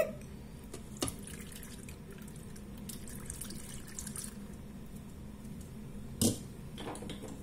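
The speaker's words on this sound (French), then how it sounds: "Je vais mettre mon lait" Milk poured into a Monsieur Cuisine Plus kitchen machine for mashed potatoes makes a soft, steady liquid trickle with faint splashes, plus a couple of brief sharp clicks and knocks, all fairly quiet.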